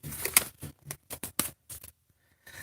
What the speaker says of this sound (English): So this card popped out as I was shuffling it.